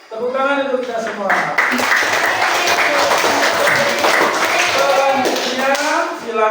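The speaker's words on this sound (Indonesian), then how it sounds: "Tepuk tangan untuk kita semua." A classroom group claps together for several seconds, steady and fairly loud, with voices heard at the start and end of the applause.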